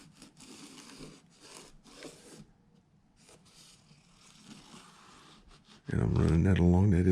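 A light applicator is rubbed along the inside of a model railway track rail, laying down a thin anti-corrosion coating; soft, faint scraping strokes continue for several seconds before a louder voice starts speaking near the end.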